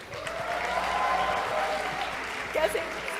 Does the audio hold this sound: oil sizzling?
no